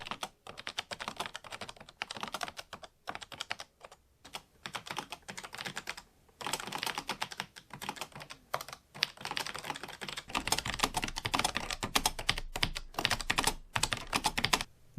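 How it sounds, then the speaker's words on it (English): Rapid typing on the standard 84-85 key keyboard of the $11k PS2 laptop, with dense clattering keystrokes in bursts and short pauses, close and clear with no talking. "it gives me a chance to demonstrate just how beautiful the standard 84-85 key keyboard is, not just in its construction but also its feel"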